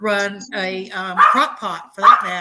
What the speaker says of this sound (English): So y'all, I'm sorry about my dogs.